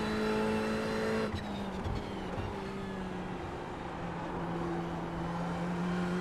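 A race car engine in the iRacing simulator holds a steady high tone, then drops through gear changes into a rougher, wavering drone, loud and continuous with no talk.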